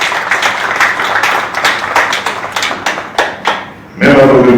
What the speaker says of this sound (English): We should all applaud the excellencies here for being with us today.